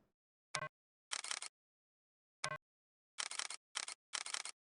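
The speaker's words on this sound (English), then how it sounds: "Yeah, it sounds like a shutter, right?" Camera shutter clicks in the video game Faceminer, crisp and close, arriving in irregular bursts of single and double snaps separated by dead silence.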